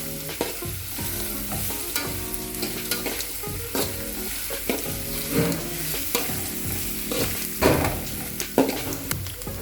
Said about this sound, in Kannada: ಈಗ ಈರುಳ್ಳಿ ಕೆಂಪಾಗೋ ಮಟ್ಟ ಹುರ್ಕೋಬೇಕು